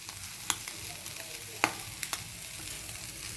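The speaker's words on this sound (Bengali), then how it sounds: "দেখুন চিংড়ি মাছ ভাজছি" Prawns fry quietly in a pan with a soft, steady sizzle, broken by a few sharp spatters and stirring clicks. No one speaks.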